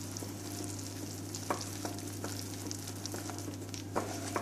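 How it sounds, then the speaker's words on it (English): Flour, cocoa powder, baking powder and baking soda being stirred into a paste for an eggless microwave chocolate cake, with occasional soft spoon scrapes over a steady low kitchen hum. "And stir it until it gets dissolved and like a paste properly."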